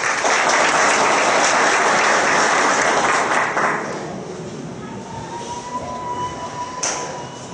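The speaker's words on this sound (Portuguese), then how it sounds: "Vamos receber uma salva de palmas" Applause in a municipal council chamber honouring a military police commander in Valparaíso de Goiás. The clapping is loud and dense at first, then drops off after about four seconds into a quieter room hum with scattered sounds.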